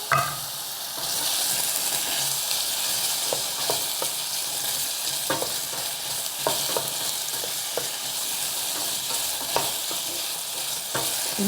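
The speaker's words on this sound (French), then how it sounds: "un filet d'huile dans le fond pour pas déjà qu'elles accrochent à la casserole, mais surtout qu'elles se mettent à griller en fait." Apple pieces fry in a film of oil in a saucepan, giving a constant close hiss and sizzle with occasional soft clicks of stirring, and no voices.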